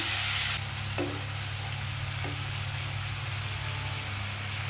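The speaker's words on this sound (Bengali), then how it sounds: "ভালো করে এটা ভাজা ভাজা করতে থাকবো" Onion paste with garlic, ginger and green chili paste frying in a pan over lowered heat for a spicy chicken vorta, a steady close sizzle with a couple of soft stirring knocks.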